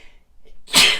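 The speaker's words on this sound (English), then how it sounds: "Oh no, I feel a sneeze." A single close, sharp sneeze bursting out after a quiet intake of breath, loud and alone at the end.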